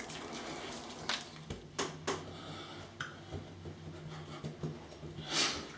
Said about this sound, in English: then I'll have a rinse off with some hot water, cold water